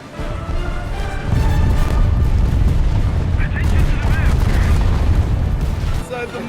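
Dive bombers' bombs explode in War Thunder, a dense, continuous rumble of booming blasts and gunfire with crackling debris, loud and close for several seconds while players shout over it.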